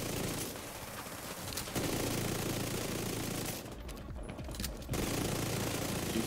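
Sustained automatic gunfire in The Division 2 during an Incursion mission, rapid fusillades that pause briefly once and then resume, loud and alone without talk.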